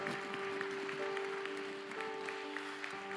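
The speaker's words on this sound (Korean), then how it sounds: "우리 큰 박수로 다시 한번 우리 축복하고 격려하겠습니다." A church congregation applauds during a Sunday worship service at a New Jersey Onnuri church, with steady, even clapping over a sustained tone that holds throughout.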